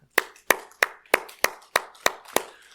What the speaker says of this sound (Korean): 박수로 격려합니다